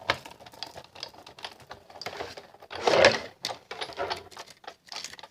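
A die-cutting machine runs a stitched paper frame through its rollers with a dense rapid clatter and tapping, nearby and fairly loud, swelling to a louder grinding burst midway before the clicking continues.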